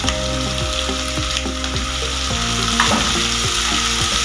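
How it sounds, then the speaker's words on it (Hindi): Chopped tomatoes fry loudly with onion and ginger-garlic paste for dhaba-style bhuni moong daal, a constant close sizzle with a few stirring scrapes and no talking. "इसको फ्राई करेंगे अदरक लहसुन के पेस्ट और प्याज में अच्छे से"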